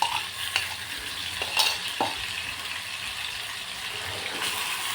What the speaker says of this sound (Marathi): हे सुद्धा छान असं भाजून घ्यायचं आहे